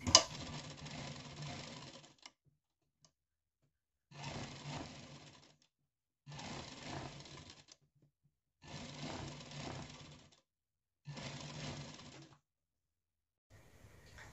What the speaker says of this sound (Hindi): अब देखिए अच्छे से बनाते हुए पूरे गले पर सिलाई लगा देना है।